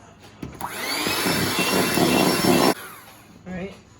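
An electric hand mixer whirs steadily through pineapple upside-down cake batter in a bowl for about two seconds, then cuts off abruptly; a short voice follows afterward.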